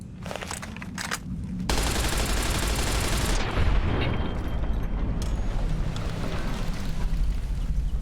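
Minigun fire in Fallout New Vegas, a loud continuous roaring burst that runs for several seconds, tapering into a rumbling tail.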